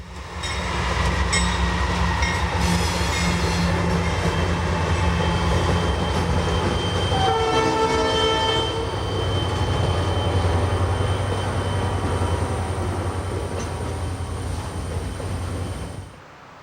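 A train passes near Pulga Siding in the Feather River Canyon in 1996, a loud, continuous rumble of wheels and cars that holds for about sixteen seconds, with a brief metallic squeal partway through and a high steady whine, then fades at the end.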